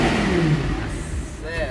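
An Audi R8 engine rumbles and revs nearby, its pitch rising and falling, loud, while people talk over it.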